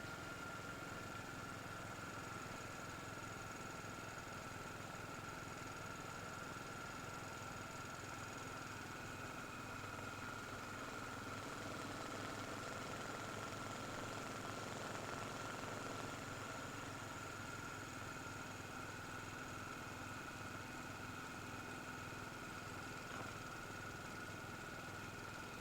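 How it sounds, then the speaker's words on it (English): A motorcycle engine runs steadily while riding along a rural road past bracken and over a small bridge, a continuous mid-pitched drone with wind rush and no speech throughout. "Oh, the joys of being on the motorcycle."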